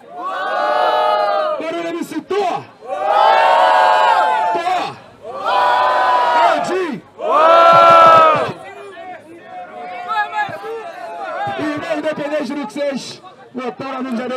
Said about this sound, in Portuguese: Barulho MC Thor! Thor!